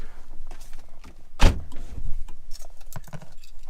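Someone gets into a Nissan 350Z, with a sharp door thump near the start, followed by rustling, shifting and small clicks of settling inside the car, close by and with no talk.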